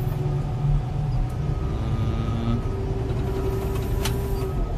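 Cat 140K motor grader backing up over crushed-rock gravel, its diesel engine holding a steady low drone with a rumbling undertone, heard from inside the air-conditioned cab with no talk.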